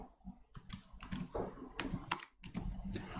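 Typing on a computer keyboard, irregular runs of close clicking keystrokes with brief pauses between bursts, no voices over it.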